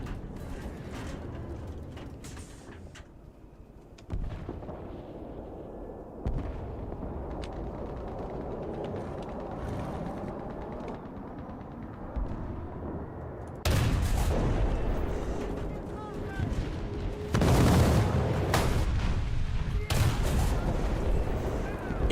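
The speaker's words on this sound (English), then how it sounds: "just fucking ignore the 9 kilos of TNT exploding right in your fucking face" Booming TNT blasts from the War Thunder tank battle video game, a series of loud, broad explosions in its second half following quieter mechanical rumble and clanking, with rolling echoes after each hit.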